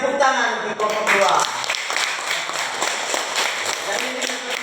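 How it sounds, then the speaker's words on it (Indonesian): Primary schoolchildren in a coding lesson clap for a classmate's group, a burst of scattered, mid-loud applause filling the room for several seconds after a brief voice at the start. "tepuk tangan untuk kelompok dua"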